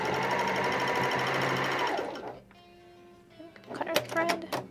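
A Janome HD9 straight-stitch sewing machine runs through two layers of denim, a loud steady mechanical whir that stops partway, followed by softer clicks and handling sounds.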